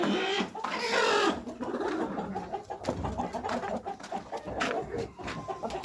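Brahma chickens, two roosters and hens, cluck and squawk close by in a busy, irregular chorus, with rustling and scuffling around them and no talk.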